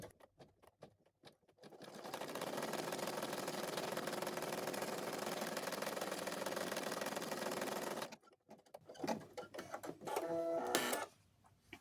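A sewing machine runs a continuous placement stitch on a cloth doll's shoe for about six seconds, a steady fast mechanical whir, followed by quieter handling clicks and a short burst of stitching near the end.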